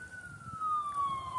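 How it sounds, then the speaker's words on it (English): A distant emergency siren holds a steady, slowly falling tone by a river, clearly audible above a low background rumble, with no talking. "we got sirens in the background"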